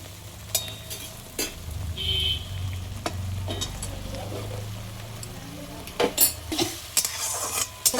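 Ginger, tomato and green chilli paste frying in a pan for a vegetarian cauliflower curry makes a soft, steady sizzle. Sharp spoon clicks against the pan come intermittently, bunching into several quick scrapes toward the end.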